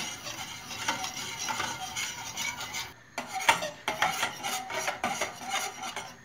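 Water pudding (su muhallebisi) stirred continuously in a pot as it cooks, a steady scraping and rubbing of spoon against the pan bottom, moderately loud with a brief pause, no voices.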